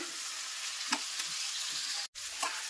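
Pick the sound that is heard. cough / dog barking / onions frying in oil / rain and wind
onions frying in oil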